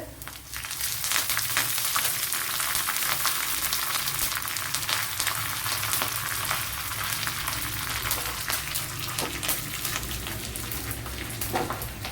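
Dried red chillies and curry leaves crackle and sizzle in hot oil for a Kerala-style jackfruit dish, a dense, steady frying hiss throughout with scattered pops; no talking.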